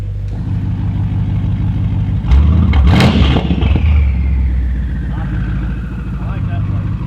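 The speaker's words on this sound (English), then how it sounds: "There's a lot of turbo spool." BMW X5 50i engine fitted with a cheap valved aftermarket exhaust, revving loudly with a surge around the middle and audible turbo spool whistle, steady rumble throughout with people talking over it.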